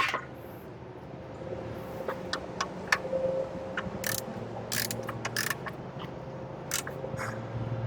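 A socket wrench ratchets the oil drain plug back into a 2015-2020 Chevy Tahoe during an oil change, close rapid clicking in uneven bursts over a steady low background hum.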